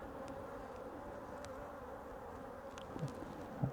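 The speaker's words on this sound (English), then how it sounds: "try not to squash bees." Honey bees at an open hive, opened during Varroa mite treatment, make a faint, steady buzz with a few soft handling knocks near the end.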